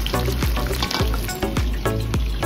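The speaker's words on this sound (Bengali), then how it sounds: "লাল লাল পকোড়া ভাজছে সোনামা।" Pakoras fry in hot oil, a loud, continuous, close-up crackling sizzle with rhythmic bursts throughout and no voices.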